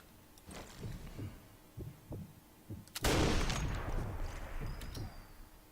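Unsuppressed sniper rifle shots in Sniper Elite 4, a sharp, loud crack arriving after a stretch of quiet, dull thumps and followed by a long, fading echo.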